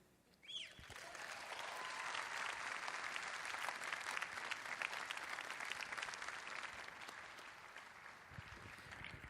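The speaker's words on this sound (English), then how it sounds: "give a round of applause." An audience at the Sports Illustrated Sportsperson of the Year awards show breaks into applause, which swells quickly to a broad, sustained roar of clapping that stays even and dense, heard from within a large hall.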